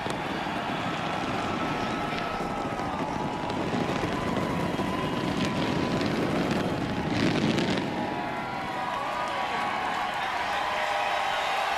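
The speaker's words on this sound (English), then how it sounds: "you hear the crowd" A large crowd roaring at an oval racetrack after a popular win in the Quaker State 400, a dense, steady wall of cheering noise that swells slightly midway and never drops away.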